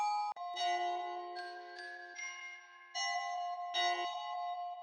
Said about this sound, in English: So I'll just show the bell at least.